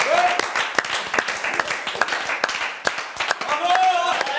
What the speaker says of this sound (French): Messieurs, dames, veuillez applaudir Kimi.